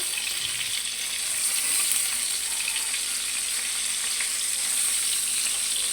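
Stuffed tinda, round gourds, frying in a pan on low gas, giving a continuous bright sizzle and crackle that stays even and fairly close throughout.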